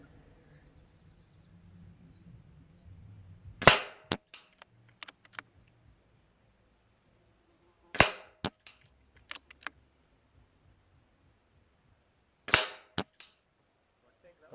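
Air rifle shots, three sharp, loud cracks spaced a few seconds apart, each followed by quick clicks of the mechanism being worked and reloaded, with faint birdsong in the quiet between.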